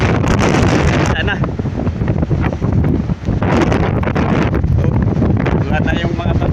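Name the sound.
strong typhoon wind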